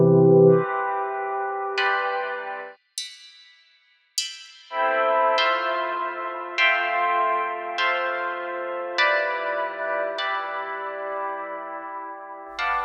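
A run of bright, ringing synthetic tones, one after another in a steady rhythm, each leaving a washy reverberant tail, with a brief drop to silence partway.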